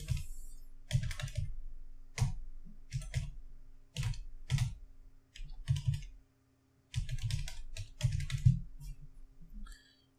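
An email address is typed on a computer keyboard in quick bursts of crisp, close keystrokes separated by short pauses, with a faint steady electrical hum beneath.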